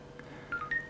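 A Nokia E52 smartphone from 2009 gives a short series of faint electronic beeps after its voice command button is pressed, soft tones in a quiet room with no speech.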